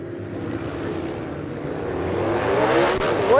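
Harley-Davidson drag motorcycles launching down the strip at Warwick Dragway, a steady loud engine roar that swells and rises in pitch as they accelerate away, growing louder toward the end.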